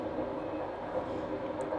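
A train rumbles past in the background at a steady, continuous low roar with no distinct breaks, holding fairly even loudness throughout.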